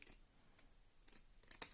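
Very sharp, pointed scissors snip through paper or card while a rectangular box is being made, a few quiet, crisp cuts spaced apart with the clearest snip at the end.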